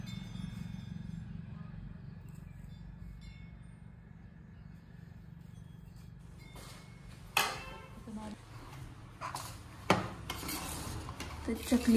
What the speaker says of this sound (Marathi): चकलीचं पीठ मिक्स करतो आता.